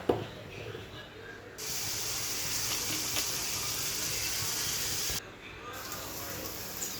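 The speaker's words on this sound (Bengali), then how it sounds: "তারপর তেলটা গরম করে নিয়ে আস্তে আস্তে অল্প করে ভেজে নিই" French fries dusted with flour sizzle in hot oil, a loud steady frying hiss holding for several seconds before dropping back to a quieter background.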